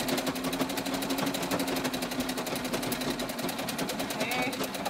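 A sewing machine runs steadily at close range, rapidly stitching the hem of a pair of pants that have zippers on the legs, in an even, fast rattling pulse that continues throughout.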